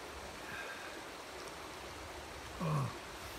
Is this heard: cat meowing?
no